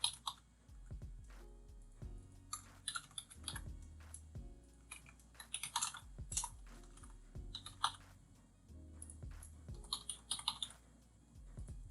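Fingers typing on a computer keyboard while registering a bookstore entry in a Spring Boot React web app, with steady close clicking keystrokes in quick runs over a low background hum.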